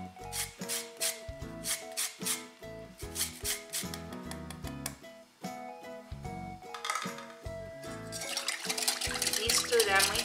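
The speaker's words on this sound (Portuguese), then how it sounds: "Vou raspar um limão." A lemon grated by hand for its zest, heard as rapid rhythmic rasping scrapes, close and fairly loud, in bursts that grow busier and denser toward the end, mixed with background music.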